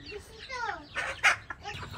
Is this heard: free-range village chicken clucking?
yes